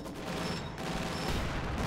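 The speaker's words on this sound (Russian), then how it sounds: "Пулемета!" Dense, rapid bursts of machine gun fire crackle continuously in Company of Heroes 2, loud and close throughout.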